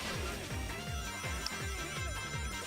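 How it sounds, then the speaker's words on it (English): A cell phone ringtone in the video game Sonic Colors, a loud repeating electronic melody of short descending tones in a steady rhythm, heard alone with game sounds behind it. "Whoops, cell phone's ringing."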